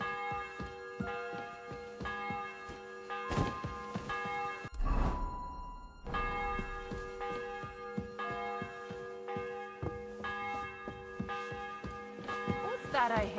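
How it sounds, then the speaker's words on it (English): In Kingdom Come: Deliverance II, a church bell tolls before an execution, with a deep, ringing strike that hangs and decays under faint ambient game sounds and ticking, alongside a sharper crash partway through. "The 11th toll of the bell."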